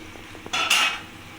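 A lid is lifted off a pot of vegetarian snake gourd curry cooking on a low gas flame: a few faint clicks, then a sudden close clatter and a brief rush of hissing sizzle that fades, with no voices.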